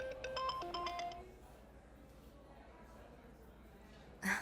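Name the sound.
phone ringtone of an incoming call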